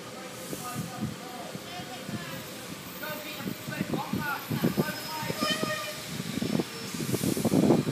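Train passing through Retford Lower Level station, a broad rumbling, hissing rail noise that swells louder toward the end, with people talking over it throughout.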